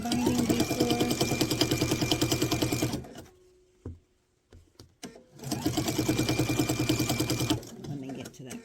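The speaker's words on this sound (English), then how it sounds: "so that you'll be able to hear me over my sewing machine" Sewing machine stitching binding onto a travel pouch: a rapid mechanical chatter runs for a few seconds, stops for a brief pause with small clicks, then resumes at the same steady pace, close and loud.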